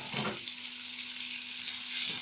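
Tomatoes added to a pan of liver and peppers fry with a soft, steady sizzle, faint and continuous, with a light stirring scrape near the start.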